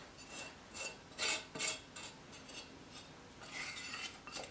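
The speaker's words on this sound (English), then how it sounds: "I'm just going to get a spatula now, and I'm just going to scrape everything out of this pot as I can" A spatula scrapes a homemade xylitol mint mixture out of a pot, giving faint, close scraping and clinking strokes in a handful of short bursts.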